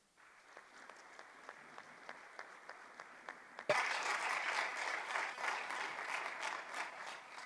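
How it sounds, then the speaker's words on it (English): An audience breaks into loud, sustained applause welcoming a keynote speaker to the podium at an annual meetings event, following a few scattered early claps. "I'm going to invite you to please allow him to come with a really warm round of applause"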